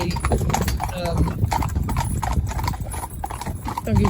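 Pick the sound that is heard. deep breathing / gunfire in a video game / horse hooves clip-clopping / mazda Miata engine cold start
horse hooves clip-clopping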